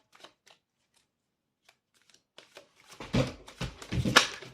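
Oracle cards are shuffled and cut by hand, starting with faint scattered flicks and building into a dense, close riffling flutter.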